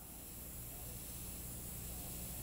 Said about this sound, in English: You aim straight down, and you move right along. You make dots that are all of the same size.